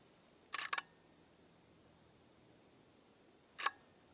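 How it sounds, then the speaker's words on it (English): Two quick mechanical clacks of a Nikon D800E DSLR's mirror flipping, then a single clack a few seconds later, crisp and close against near silence. "Could you hear the mirror flipping up and down?"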